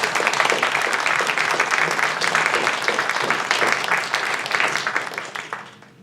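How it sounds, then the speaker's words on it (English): A crowd applauds dancers at a commemorative arts event, with dense, steady clapping that carries on for several seconds before tapering off. "if we could give the dancers another round of applause"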